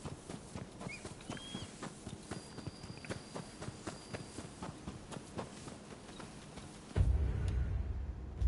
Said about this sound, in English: That is a very fine steed you have there.